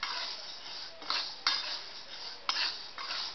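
A spoon scrapes and stirs chakli flour as it dry-roasts in a pan, giving steady gritty rustling with a few sharper clinks of utensil on metal, fairly quiet and without any talking.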